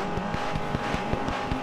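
Race car in the video game Grid 2, engine droning steadily at close range with repeated short bursts, like shifts or impacts, running through the whole clip.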